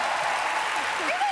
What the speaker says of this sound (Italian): Un applauso al fidanzato di Vanessa.